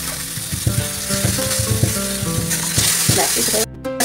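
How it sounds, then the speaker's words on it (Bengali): Hilsa fish fry in hot mustard oil, a loud, close, continuous sizzle and crackle with stirring and utensil clatter mixed in, briefly cutting out near the end, and no one speaks. "সর্ষের তেল দিলাম, তেলটা গরম হয়ে গেছে। এবার মাছগুলো তুলে দেবো"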